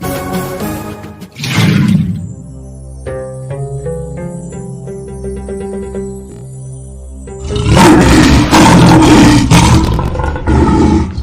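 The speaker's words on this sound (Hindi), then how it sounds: "अबे ये तो शेर की आवाज है सालो।" A lion roars loudly and close, deep rumbling bursts rising over a musical backdrop, with a second long roar surging later.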